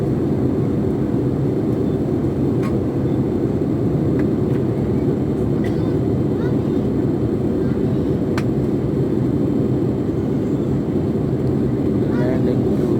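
An AirAsia passenger airplane cabin fills with a loud, steady low engine drone on the way to land in Bangkok, Thailand, constant throughout with faint clicks above it.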